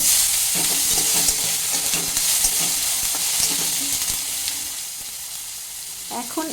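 Half a medium tomato dropped into hot cumin tempering in oil, a loud, close crackling sizzle with spoon clatter and stirring, easing off toward the end, no voices.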